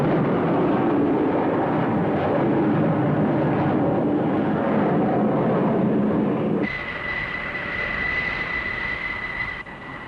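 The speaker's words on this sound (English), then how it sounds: "Launched from a steam-powered catapult that induces an acceleration loading better than 5 times the force of gravity" Jet aircraft hurled off an aircraft carrier deck by a steam-powered catapult: a loud, sustained broadband roar of engines and launch that cuts off abruptly, leaving a quieter rumble with a steady high whine.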